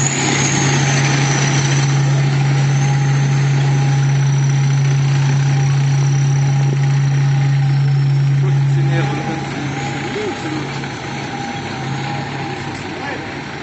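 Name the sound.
Soviet armoured military vehicle engine running at a demonstration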